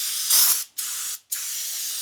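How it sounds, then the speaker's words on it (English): Three bursts of aerosol spray hiss close by, the first a bit louder, separated by brief silent gaps, spraying down a Toyota Tacoma after a CV axle replacement. "Give it a good last spray down"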